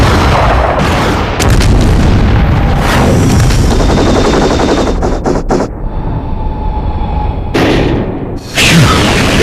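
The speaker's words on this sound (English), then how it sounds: "I'll shoot it down now." A mech in the Murakumo video game opens fire on a target with loud, dense bursts and booming blasts, ending in a sharp cutoff and then a final burst.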